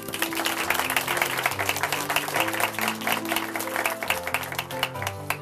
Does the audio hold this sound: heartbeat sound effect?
no